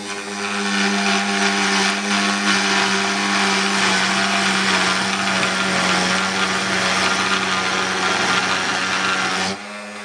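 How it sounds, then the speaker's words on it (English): A wood router spins a steady, loud whine while cutting a channel into the body of a Taylor 314 acoustic guitar. The tone is continuous and close for about nine seconds, then cuts off abruptly. "The best way to check the channel is to really let the router turn, then adjust both sides"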